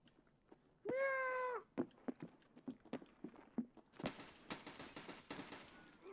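In an Escape from Tarkov match, a player's voice imitates a cat with one drawn-out meow, followed by bursts of in-game gunfire and chatter.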